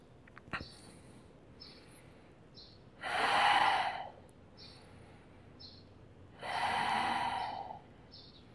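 Two long, audible breaths during a yoga core exercise, each a sustained airy rush lasting about a second, separated by a few seconds of quiet, with faint soft clicks in between.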